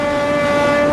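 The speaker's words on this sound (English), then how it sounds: "The Grand Trunk Express nears its destination." An Indian express train, the Grand Trunk Express, runs on a main trunk line, with steady loud rumbling and a sustained tonal whine or horn-like hum throughout.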